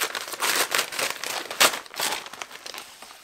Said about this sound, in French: Ensuite j'ai une enveloppe d'édition.